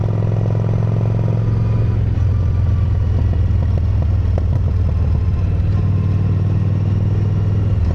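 A Yamaha V Star 1100 motorcycle rumbles along on a ride, its engine loud and steady throughout with a low drone, clattering and some wind noise.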